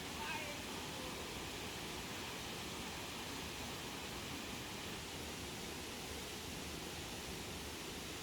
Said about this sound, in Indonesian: Tidak ada suara bising kecuali suara air terjun yang menjadi pusat perhatian.